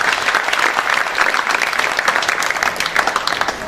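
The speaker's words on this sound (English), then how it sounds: "Round of applause for speakers." A conference audience gives sustained applause for the speakers at an entrepreneurship event, a dense, loud, even stream of many hands clapping throughout.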